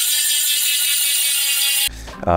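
Rapid, steady ratcheting clicks from a freewheeling DT Swiss bicycle hub, loud and close, breaking off near the end into a brief mechanical clatter.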